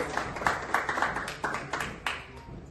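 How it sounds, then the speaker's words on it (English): A crowd applauds at a brand unveiling event in Pune, with brisk scattered clapping that peaks in repeated bursts, fairly close and without speech over it. "A huge round of applause, guys."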